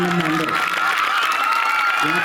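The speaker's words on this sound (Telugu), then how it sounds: "క్లాప్స్ ఇవ్వండి అందరూ" An audience at a public event in Gudur applauds steadily for a couple of seconds, the dense clapping mixed with crowd noise and a voice on a loudspeaker.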